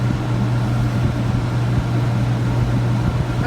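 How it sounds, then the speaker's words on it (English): Inside a vintage bus conversion RV, an overhead air conditioner drones steadily and loudly, a constant low hum with a strong tonal buzz and no voices. "I'm also finding in the RV, the air conditioner sounds are loud."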